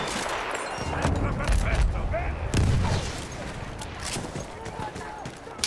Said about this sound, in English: Oh, fucking shotgun.